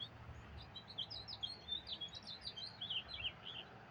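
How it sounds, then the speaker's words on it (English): A sparrow chirps at sunrise in a rapid, steady run of high, thin tweets that repeats throughout, fairly faint and distant over a low background hush. "There's no robins, that's a sparrow."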